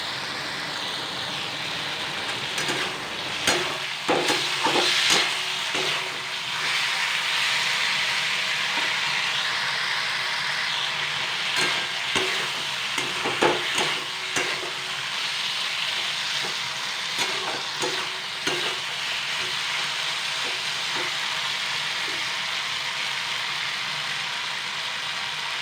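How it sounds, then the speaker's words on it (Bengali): Mustard paste fries in oil in a pan for a Bengali okra curry, a continuous hissing sizzle punctuated by scattered sputters and utensil clacks. "তো চলো এটিকে একটু ভালো করে ফ্রাই করে নিই 2 থেকে 3 মিনিটের মতো।"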